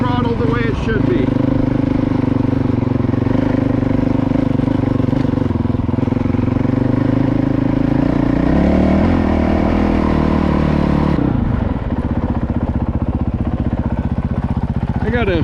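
A Honda CRF450L dual sport motorcycle ridden on a trail between Priest Lake, Idaho and Sullivan Lake, Washington, its engine droning loud and close, pitch shifting with throttle changes, with a rider talking over it at times.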